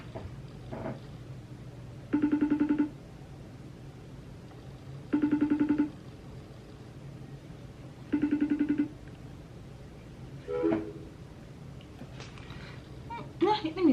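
A phone call rings unanswered: four evenly spaced ringback tones of under a second each, roughly three seconds apart, quiet against a faint background, with brief speech near the end.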